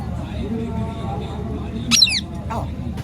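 A pet parrot lets out one sharp, loud squawk near the middle, with a short fainter call after it, over a low murmur of room noise and voices.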